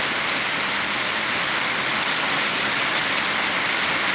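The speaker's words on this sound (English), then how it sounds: "Oh, got a car going." A car passes in heavy storm rain in Canton, Oklahoma, its engine a low, faint rumble beneath a steady, loud downpour.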